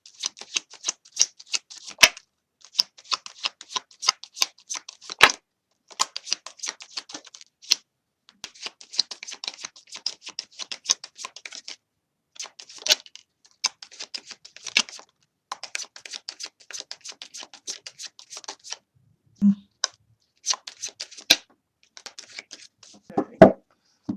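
Tarot cards are shuffled, riffled and dealt onto a table in a love reading, giving a long run of crisp, close papery flicks and slaps in uneven bursts with short pauses between.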